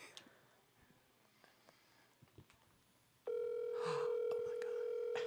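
A phone call being dialed on speakerphone, heard as a steady electronic tone that cuts in suddenly partway through after quiet room noise with faint rustles.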